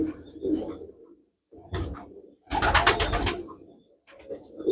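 A young pair of Teddy pigeons coo in several low, rolling bursts separated by short pauses, close and fairly loud, with a brief rustle of wings in the middle.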